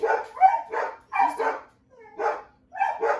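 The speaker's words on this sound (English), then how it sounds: "you hear the dogs barking in the background" Dogs bark in the background of a home kitchen, a series of about six sharp, close barks and yips in irregular bursts.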